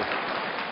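Applause from a badminton audience at the 2008 Yonex Sunrise Hong Kong Open, a dense, even wash of clapping that stays steady through a brief moment.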